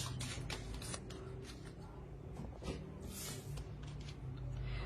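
Oracle cards of elemental beings being shuffled and drawn by hand, giving quiet riffling and flicking bursts, with faint talk in the background.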